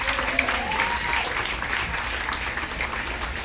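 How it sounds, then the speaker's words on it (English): A round of clapping from a small group on a cruise ship, a dense, even patter of hands sustained for a few seconds at moderate loudness, with no voices over it. "Please give a round of applause for my sanitizer."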